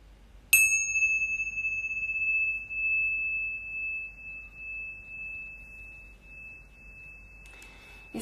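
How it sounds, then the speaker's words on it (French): A meditation bell is struck once, giving a sharp metallic onset and then a pure ringing tone that sustains and fades slowly for several seconds in a quiet room, followed by a faint rustle at the end. "ces derniers instants que vous entendez encore les cloches"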